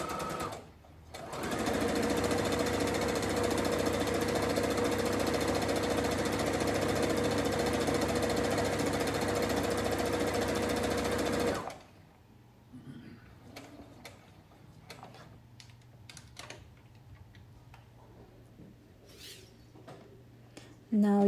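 Sewing machine stitching the casing of a drawstring beach cover-up dress: a loud, steady mechanical whir and rapid needle clatter running about ten seconds, then quieter handling sounds and faint voice afterward.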